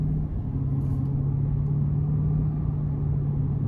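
A 2024 Chevrolet Silverado 1500 LT Z71 with a 5.3 liter V8 and 10-speed automatic cruising on the road, heard from inside as a steady low engine drone and road rumble.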